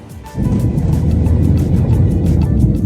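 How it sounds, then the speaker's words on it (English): A steady, loud engine and road rumble fills the cabin of a tiny two-door Renault Twingo car, rising abruptly as it gets moving and holding a constant drone with no speech. "I think we are in the tiniest car I have ever been in my life."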